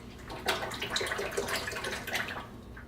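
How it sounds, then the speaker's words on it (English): Cooking oil pours in a steady, soft liquid rush into a deep fryer, fairly quiet and unbroken, with no voices. "Just pouring our oil."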